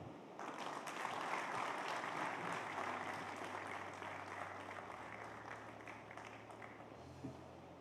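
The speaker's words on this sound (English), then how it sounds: "A big round of applause for Lieutenant General Sharma" A summit audience applauds a lieutenant general after his talk on 21st-century warfare, a dense, sustained wash of clapping across the hall that swells early and slowly thins, with a low hum running underneath.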